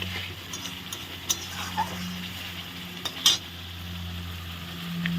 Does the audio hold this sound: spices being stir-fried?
yes